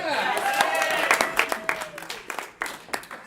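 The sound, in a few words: audience applause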